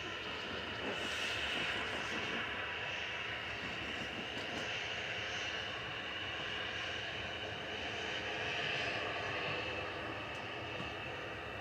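A Jet2 Boeing 737-800 airliner at Manchester Airport gives off a steady, broad jet-engine roar at a moderate distance. It holds an even level throughout, with no talking.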